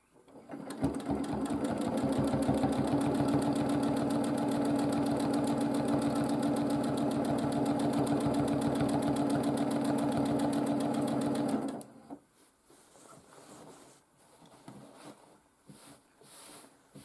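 A domestic sewing machine runs steadily for about eleven seconds, free-motion quilting a Drunkard's Path quilt, a loud rapid needle rhythm that stops abruptly, leaving quiet handling noise.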